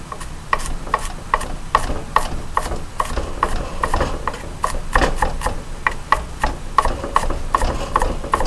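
A knife mincing cod into small pieces for cod cakes on a cutting board, heard as a steady run of quick, sharp, evenly spaced chopping taps with no voices.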